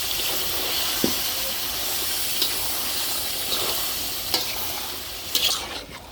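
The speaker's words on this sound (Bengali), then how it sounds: "এই যে মুরগি সব দিয়ে নিচ্ছি, এখন মশলার সাথে ভালো করে মিশাই নিব।" Chicken pieces being stirred into hot oil and spice paste in a pan for a desi chicken curry, a steady sizzling hiss broken by several sharp scrapes of the spoon against the pan, close by with no voices.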